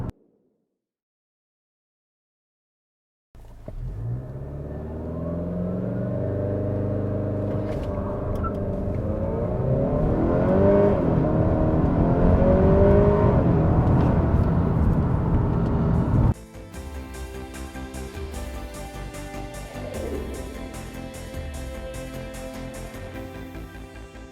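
A Honda Civic Type R FK8 with a hybrid turbo revs hard and accelerates through the gears in a 0-60 mph run, the engine note climbing steadily before a sudden shift, then a rough, faltering drone as power cuts, loud and close.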